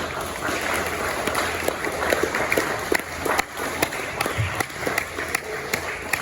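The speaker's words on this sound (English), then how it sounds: "Give yourselves a round of applause." Audience clapping at a motivational talk by a former WWE wrestler, a moderately loud wash of hands with distinct individual claps standing out, continuing steadily across the whole stretch.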